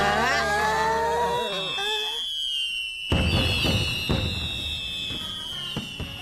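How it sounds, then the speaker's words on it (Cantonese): Cartoon fireworks whistle upward in long rising and falling tones, then crackle and burst repeatedly, moderately loud and close. "喺秘密基地呢度睇煙花，果然係特別靚啊！"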